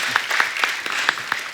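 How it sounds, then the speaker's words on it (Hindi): Studio audience of a Hindi comedy talk show claps, steady and moderately loud, with a few sharper claps standing out over a brief stretch. "ताली हो जाए।"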